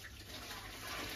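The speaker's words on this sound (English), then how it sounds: "Pour this water out the jug." Water is poured out of a jug, a steady hissing splash of liquid running continuously for a moment, fairly quiet and heard without any talk.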